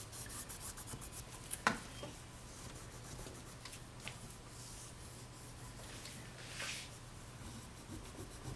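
Rubbing down a portfolio inset by hand, soft scratchy strokes of friction on board or paper, faint and close with one sharper scrape near the start.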